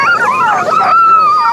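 Sled dogs on a North Pole expedition whine and yelp close by, a steady chorus of high, wavering howls without talk.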